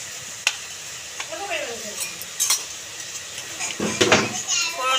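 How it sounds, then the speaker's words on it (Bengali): Nigella seeds are tempered in hot oil left from frying potatoes, for an amudi fish tel jhal, making a soft sizzle with a few spoon-against-pan clinks while a person talks over it. "গরম তেলের মধ্যে ফোড়ন দিয়ে দেবো কালো জিরে"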